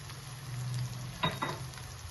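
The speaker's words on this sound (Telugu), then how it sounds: "అల్లం పేస్ట్ కూడా ఫ్రై అయింది ఇప్పుడు పసుపు వేసుకున్నాము" Ginger paste and turmeric frying in a pan for a mutton and drumstick curry: a quiet, steady sizzle with a couple of soft stirring clicks partway through, no voices.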